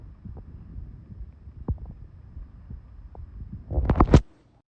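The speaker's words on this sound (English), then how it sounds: "Apparently you can hear your heartbeat through your phone." Soft, low heartbeat thumps through a phone with a dull hum, ending in a louder rustling burst before the sound cuts off.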